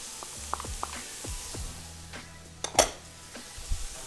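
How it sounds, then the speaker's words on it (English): Chopped fresh garlic sizzling in a hot pan, a soft frying hiss under close clinks and scrapes of a utensil against cookware, with one sharper clatter midway. "at this point, I'm going to add the garlic"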